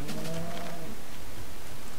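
A Minecraft cow gives a short low moo, about a second long, close and clear at the start, then quiet ambience follows.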